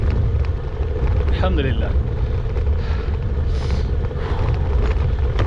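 Strong wind roaring over the microphone while cycling the Way of the Roses route, a steady loud rush with low buffeting that carries through the whole stretch, and someone speaking briefly over it.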